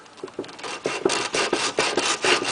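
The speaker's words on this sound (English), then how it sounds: "I like to take some sandpaper" Sandpaper rubbed back and forth over freshly drilled holes in a DIY heater part for a Yamaha Rhino 700FI, a close series of about ten rhythmic rasping strokes, dry and scratchy, with no talking.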